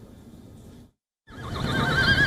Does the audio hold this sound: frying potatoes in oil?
no